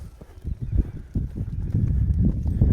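A horse loping in an arena, a run of soft, muffled hoofbeats in a rolling rhythm, close and fairly loud with no talk over them.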